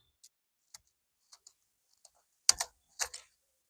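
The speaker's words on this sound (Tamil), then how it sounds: "நல்லா சரக்கு சரக்குன்னு எப்படி இது கேட்குது பாருங்க சத்தம்" Fresh spinach leaves from a terrace garden harvest crackle crisply as they are handled, a few faint light snaps followed by two louder close crunchy bursts near the end, with no voices.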